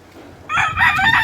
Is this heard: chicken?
yes